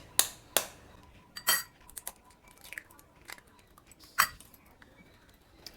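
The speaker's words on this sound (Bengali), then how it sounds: "এবারে আমি এই ডিমটা ফাটিয়ে দিচ্ছি" Sharp cracking and crunchy clicks of an egg being broken over a soybean mixture, a few distinct snaps near the start followed by softer scattered taps and crinkles, with no talk.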